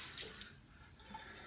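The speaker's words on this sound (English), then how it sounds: "A little water on the alum." Water trickles onto an alum block during a wet shave, a brief, soft splash and wash of liquid heard up close with no voices.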